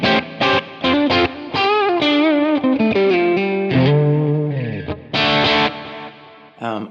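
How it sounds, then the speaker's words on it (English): Electric guitar played through a Friedman IR-D amp capture with a flanger in front, giving a loud, driven, vintage-flavored tone; chords and single-note phrases ring out in bursts with sweeping, swirling coloration and brief pauses between them. "So I've got a flange on the front just for kind of a..."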